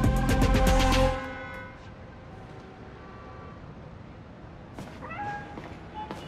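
A loud, harmonic cat meow in the video game Spider-Man: Miles Morales, with a game-like, processed quality, followed by quieter background ambience and a couple of faint higher chirps.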